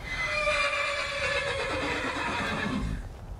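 A horse in the video game Skyrim lets out a loud, drawn-out neigh with a wavering, descending whinny lasting about three seconds, close and prominent.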